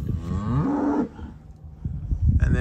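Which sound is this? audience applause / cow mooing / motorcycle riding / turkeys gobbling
cow mooing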